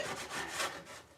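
A sharp-edged tool used like a chisel scrapes across wood in a short, close, rasping stroke that swells and fades over about a second.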